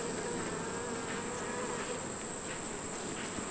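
Honeybees crowd over an algae pollen patty and syrup inside an open hive, a steady, close buzzing drone that holds without a break and has no speech over it.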